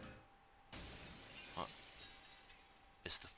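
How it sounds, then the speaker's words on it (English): A foyer chandelier crashing down in Danganronpa Lapse, a sudden loud shattering burst of breaking glass followed by scattered tinkling shards and a second clinking crash near the end. "the foyer chandelier came crashing down on Missy and Forte"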